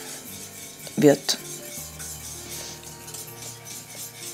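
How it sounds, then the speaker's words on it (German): A spoon scrapes and clinks against a pot while a flour-and-milk mixture is stirred into a thick pudding-like cream for a Russian honey cake (Medovik), with one brief clatter early on, then quieter steady stirring. "geben uns das Mehl-Milch-Gemisch mit dazu und rühren das so lange, bis das so eine puddingartige Konsistenz"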